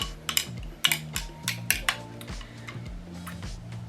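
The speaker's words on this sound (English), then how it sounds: "Give it a little stir." A spoon stirs strawberry milk in a glass, giving a quick series of bright clinks against the glass over soft background music.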